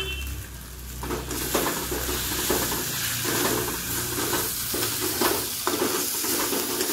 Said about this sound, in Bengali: এইভাবে একটা একটা করে মশলা দিয়ে ভালো করে মিশিয়ে নিতে হবে।